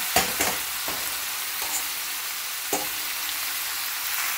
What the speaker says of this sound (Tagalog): ilalagay niyo na ngayon ang lahat ng eggplant na pinirito niyo kanina